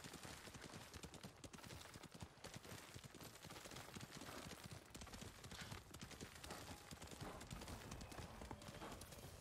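Horse hooves clip-clop continuously at a steady trotting rhythm in the Ghost of Tsushima video game, with dense, busy ambience and water-like hiss behind them.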